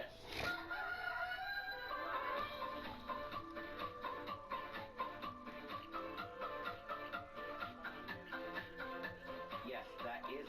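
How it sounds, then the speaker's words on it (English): A rather eccentric theme song for a chicken-coop roller coaster plays, its rhythmic, musical pulses mixed with clucking hen calls that repeat steadily throughout, loud and with no talk. "Yes, that is a clucking sound."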